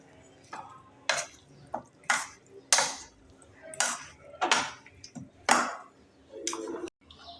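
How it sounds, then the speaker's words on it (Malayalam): Ingredients being mixed by hand with a spoon in a bowl after a tablespoon of coconut oil is added, giving repeated close scraping and clinking strokes in an uneven rhythm, with no talking. "ഇനി ഇതെല്ലാം കൂടെ നന്നായിട്ട് മിക്സ് ചെയ്യും."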